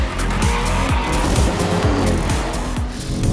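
An Audi RS3 with a 2.5-litre, 400 hp engine accelerates hard, its exhaust note rising through repeated gear pulls while the tyres squeal and skid, loud and close throughout.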